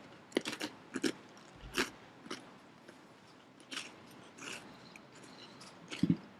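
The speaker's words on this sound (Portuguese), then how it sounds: "Só terminar de mastigar." Someone chewing and biting into food close to a microphone, with a string of soft crunches and mouth noises at irregular intervals during a quiet pause.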